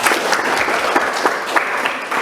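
Students in a classroom clapping together during a social studies lesson on imports and exports, a brisk, loud burst of group applause filling the whole moment with no talk over it.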